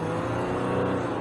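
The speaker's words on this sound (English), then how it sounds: "let me give it a little bit of throttle" A 2021 Jeep Gladiator EcoDiesel engine pulling under light throttle, a steady low droning growl with a faint rise in pitch, close and continuous with no talking.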